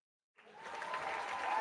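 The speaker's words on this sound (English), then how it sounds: "That deserves a round of applause." An audience breaks into applause for a participant at a real estate seminar, the clapping starting after a short silence and building into a steady, moderately quiet ovation.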